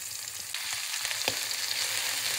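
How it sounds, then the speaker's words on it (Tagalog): Onion and garlic sauté in a hot pan with a steady, close sizzle, broken by a few soft clicks and scrapes as the pan is stirred. "So, ginisa ko muna yung onion and garlic, guys"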